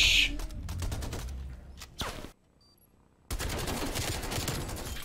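Gunfire in the Black Ops Cold War PC game: a loud rapid burst of shots, a brief pause, then another sustained volley of rapid fire.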